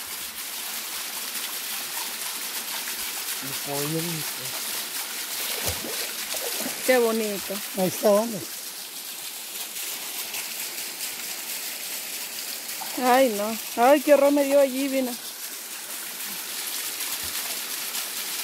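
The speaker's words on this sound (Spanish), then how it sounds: "La cascada." A waterfall by a cave pours as a steady, soft hiss of falling water throughout, while people talk and exclaim over it now and then.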